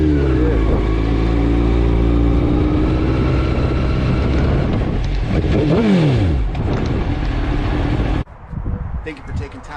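A 2003 Suzuki GSX-R 750 motorcycle engine runs loud and close with a steady, throaty drone. One rev swells and falls away before the sound drops abruptly to a quieter, rougher idle.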